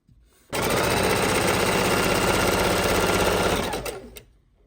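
A sewing machine runs a long seam on a tote bag, a loud, steady, fast whirring rattle that starts abruptly, holds for several seconds and winds down at the end.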